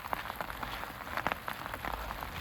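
Rain patters on a wooded trail at Shiloh across from Bloody Pond, an uneven scatter of close drops tapping the surroundings with no talk.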